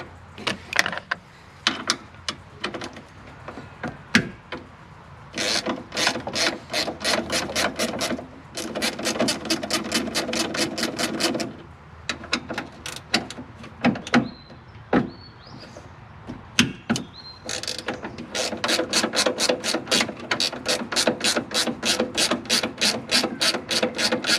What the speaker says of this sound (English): So this here are the 2 bolts we remove to install the HPD Catch Can mounting bracket.